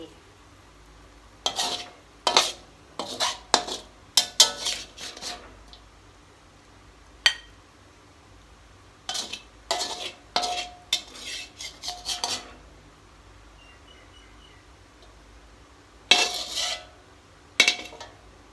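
Roasted Indian trumpet tree pods scooped out of a pan: scattered scraping and clinking of a utensil against the pan, with clusters of sharp scrapes separated by quiet pauses, close and fairly crisp.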